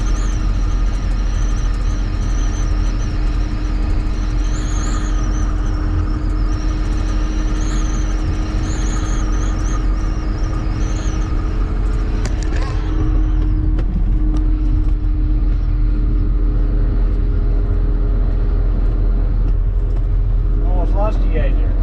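A car rolling down the road after a broken ball joint repair and alignment, a steady low engine and road drone with wind rumble throughout, unchanging and continuous.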